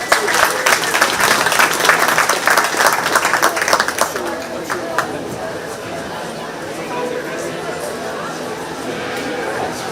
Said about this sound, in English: Let's give all those kids a big round of applause.